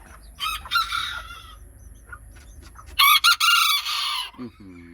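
A rooster crows loudly nearby in two bursts, with clucking and scattered farmyard noise around it and a brief voice near the end.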